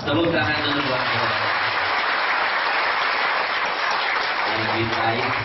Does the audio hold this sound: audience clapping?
yes